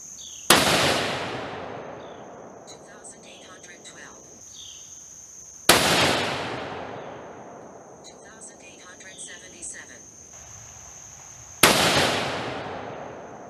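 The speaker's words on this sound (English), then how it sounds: "We're going to get started shooting, and we'll see how it goes from there." Three loud rifle shots from a .270 WSM at a shooting range, spaced about five seconds apart, each a sharp blast with a long decaying echo, insects chirping faintly in the background.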